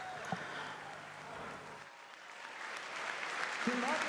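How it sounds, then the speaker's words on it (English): An audience gives a steady round of applause for the speakers, building slightly over a few seconds, while a voice speaks briefly at the start. "Bitte einen Riesenapplaus."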